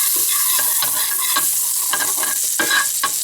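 Butter sizzles loudly in a hot, nonstick pan, a dense, continuous frying hiss broken by clicks and scrapes as it is moved around, with no talking.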